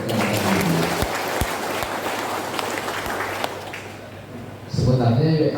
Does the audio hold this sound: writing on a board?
no